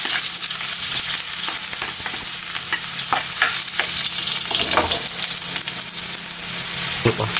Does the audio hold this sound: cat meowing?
no